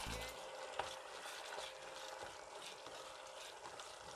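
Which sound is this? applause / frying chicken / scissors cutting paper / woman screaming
frying chicken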